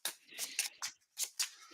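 Cards being shuffled in a digital card game, a quick run of crisp, short riffling flicks in close succession, fairly quiet and with no voice over them.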